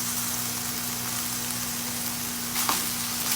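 Ground meat dusted with flour fries in a pan with a steady, close sizzling hiss that runs throughout, with a low hum underneath and a couple of brief scraping stirs near the end.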